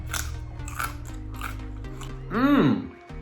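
A single loud crunchy bite near the end, preceded by soft mouth noises and quiet background sounds.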